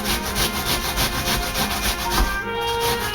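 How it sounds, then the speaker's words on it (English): A small onion is grated for latkes, giving a steady, close scraping rasp that pulses with each stroke against the grater, continuous and fairly loud with no voices. "we are just going to grate this onion just like we did the potatoes."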